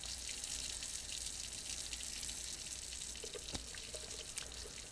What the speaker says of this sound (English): Nice little fountain with a little water spout on top.